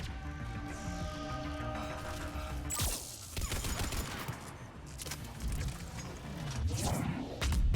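Biotic explosions and combat effects in Mass Effect 3, a rapid clatter of bursts and crashes, then a sharp whoosh and layered blasts, loud and continuous over a game soundtrack.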